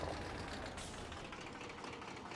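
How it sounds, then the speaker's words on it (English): A tractor engine idles low and steady in Farming Simulator 25, a faint continuous rumble with no talk. "turn the tractor off"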